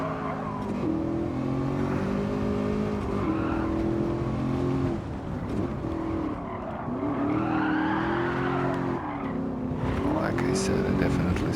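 Sports car engine in Gran Turismo 7 droning steadily with shifting revs throughout, tires squealing through corners, with a person talking over it.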